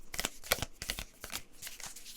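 A deck of oracle cards is shuffled by hand, giving a quick run of close, crisp riffling and flicking bursts with no talking.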